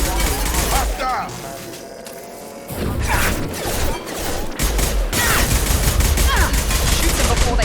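Rapid gunfire bursts rattle and crack throughout a Mass Effect 2 firefight, dense and loud, with brief lulls between volleys and voices shouting over the shooting.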